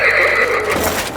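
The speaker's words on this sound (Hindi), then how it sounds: "देखो दुनियाज़ाद, ये घोड़ा खुद सुल्तान के पास पहुंच जाता है, चाहे वो जहाँ भी हो।" A horse in a cartoon gives a loud, close whinny lasting about a second, alone with no talk.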